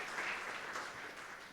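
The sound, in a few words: congregation applause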